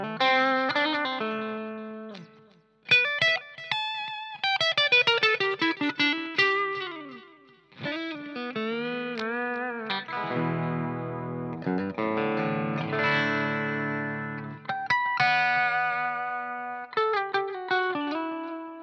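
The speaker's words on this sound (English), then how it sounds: "Let's try the reverb as well." An electric guitar plays through a reverb effects pedal, picking melodic runs and chords whose notes ring out and trail off in a lingering wash, with brief gaps between phrases and no speech.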